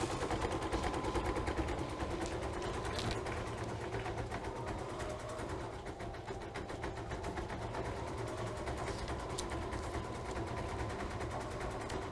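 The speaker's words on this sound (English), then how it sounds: "we're ready for when the machine is done stitching our lettering" An embroidery machine stitches lettering with a rapid, even mechanical rattle that runs steadily throughout at moderate volume, with no voices.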